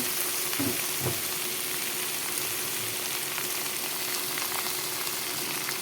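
Radish greens and red lentils frying in a pan give a steady close sizzle with a few soft scrapes of stirring, and no one speaks.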